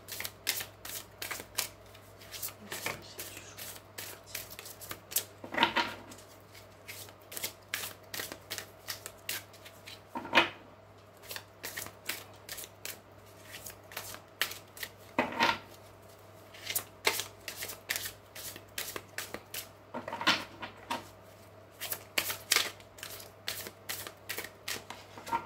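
Tarot cards being shuffled by hand: repeated crisp riffling bursts recur every few seconds, interspersed with softer card slaps and handling sounds over a quiet steady hum, with no talking.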